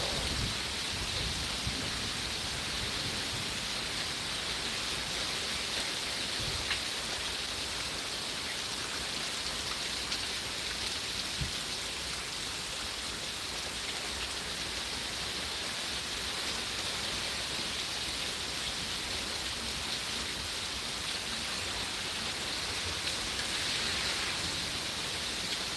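Heavy rain pours during a severe thunderstorm in Pittsburg, Kansas, a dense, constant roaring hiss that stays loud and even throughout with no talk.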